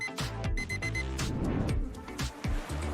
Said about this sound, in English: The correct answer is an alarm clock.